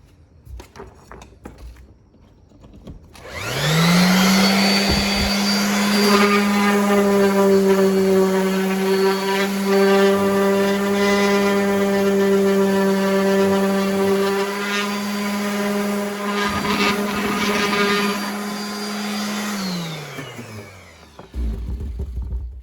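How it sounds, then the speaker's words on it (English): Power sander working on a car interior part from a Camaro, a sustained whining motor hum that starts abruptly, runs steadily for about seventeen seconds with slight load changes, then winds down, close and loud with no talk. "So now let's sand it one more time."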